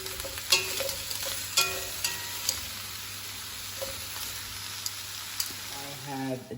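Carrots and onion stirred and fried in a pot, with a quiet sizzle and several sharp spoon scrapes and knocks spaced a second or so apart.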